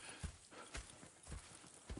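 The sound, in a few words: horse hooves clip-clopping, from a video game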